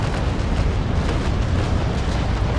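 Naval cannon broadside from a wooden sailing warship in the Naval Action video game, a heavy, loud, rumbling roar of overlapping gun blasts that stays dense and sustained with no talk.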